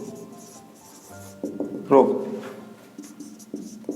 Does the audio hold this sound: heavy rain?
no